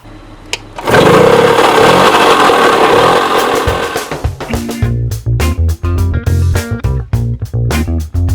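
A 1965 Sears Sabre motorcycle engine starts with a loud burst and then revs in short uneven blips with a popping, chugging exhaust, loud and close.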